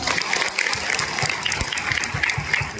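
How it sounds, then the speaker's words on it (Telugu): Seminar audience breaking into loud, sustained applause, dense rapid clapping from many hands filling the room evenly throughout with no voices on top. "వాళ్ళకి ఒకసారి గట్టిగా క్లాప్స్"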